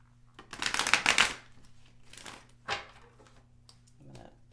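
Tarot cards are shuffled close up in quick riffling bursts, one long burst followed by two shorter ones and a faint soft rustle.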